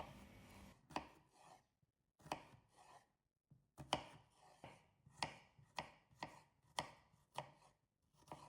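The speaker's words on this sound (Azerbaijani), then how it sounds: "3 ədəd təzə xiyarı da nazildib kub şəklində doğrayıram" A knife chops fresh cucumbers into small cubes on a board, crisp, close knocks coming in quick bursts of several strokes separated by short pauses.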